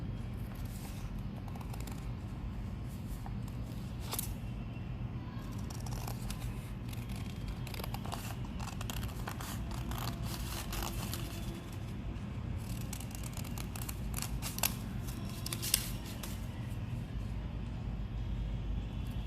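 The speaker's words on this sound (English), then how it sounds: "Now using paper cutting scissors, cut the outer portion." Scissors snip repeatedly through paper at close range, a steady run of crisp cutting sounds over faint background hum.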